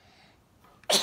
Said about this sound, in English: She sneezed all over me